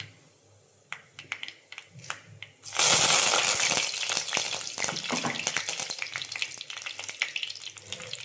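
Dried red chillies split lengthwise and curry leaves drop into hot oil and burst into a loud, steady sizzle that sets in sharply partway through and keeps crackling and spitting close by, preceded by faint clinks.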